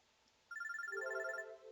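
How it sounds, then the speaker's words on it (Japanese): A phone droid ringtone from the video game Robotics;Notes Elite, a sudden bright electronic melody of a dozen or so quick pulsing tones lasting about a second, with no talk. "I got a little nervous from the sudden sound, but it's just my phone droid getting a call."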